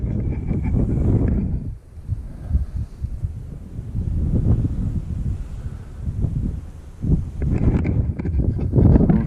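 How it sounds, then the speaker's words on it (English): Wind buffets a microphone in steady low rumbling gusts, loud and continuous, with brief lulls before the roar picks up again, at a December wild camp on Hallin Fell above Ullswater. "It's quite windy."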